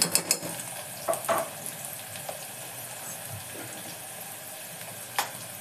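Onions sizzle quietly in a pan for a Telangana-style mutton curry, with a few clinks and scrapes of a spoon stirring them near the start and once toward the end over a faint, steady fry.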